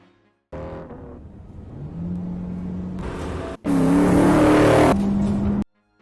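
A car engine revs and accelerates hard in a horror movie chase along a legendary route, with loud rising whines that rev, briefly cut out, then surge louder before stopping abruptly.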